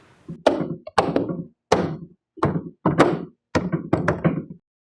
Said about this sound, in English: And then tap them into the actual door.